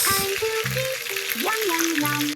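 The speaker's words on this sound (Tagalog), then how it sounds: "Chicken inasal sa kawali lang yan guys" Chicken inasal frying in a kawali, a steady bright sizzle of hot oil running the whole time, close and loud, beneath a voice speaking and exclaiming.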